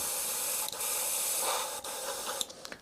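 Airbrush blasting cleaner through its side-feed cup, a continuous close hiss of spray with a few brief breaks and a sputter near the end.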